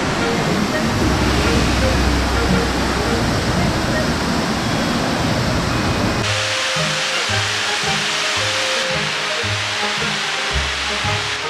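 Fukuroda Falls in Ibaraki, seen from a high viewpoint, roars as a dense, continuous wall of rushing water, loud and unbroken, while someone talks excitedly over it in the second half.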